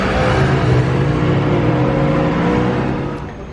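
A McLaren 720S with a Mansory carbon kit passes outside the Hôtel de Paris, its engine a steady loud whir and drone that holds for a few seconds before easing slightly as it moves away.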